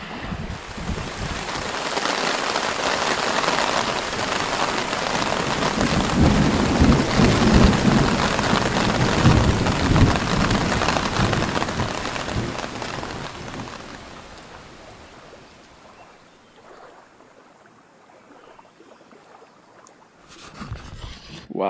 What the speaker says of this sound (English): Right as I took my last bite of dinner, it started to rain.